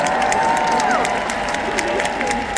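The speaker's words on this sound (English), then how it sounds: "Round of applause for my nipples, everybody" A comedy audience gives a round of applause with cheering mixed into the clapping, a steady, fairly loud crowd sound with a few whoops rising over it.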